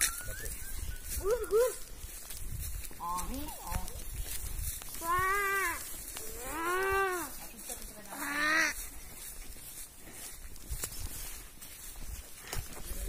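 Cattle grazing beside a narrow footpath in the Konkan countryside, with several drawn-out lowing calls rising and falling across the middle of the stretch, mid-distance, over steady outdoor background noise and some talk.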